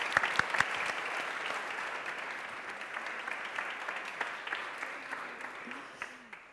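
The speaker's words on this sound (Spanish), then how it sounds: "Un fuerte aplauso" An audience at a panel discussion on purpose-driven brands applauds in a sustained, dense burst of clapping that slowly fades toward the end, with no voices over it.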